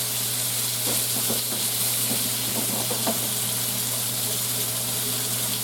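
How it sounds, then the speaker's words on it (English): Sausage sizzles and splatters in a frying pan, a steady, close, loud hiss with scattered crackling pops and a constant low hum underneath. "I know the sausage is going to splatter a little bit"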